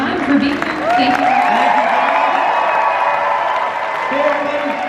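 A crowd claps and cheers at a Walking Dead fan convention panel. The applause runs steadily under a loud voice talking over it.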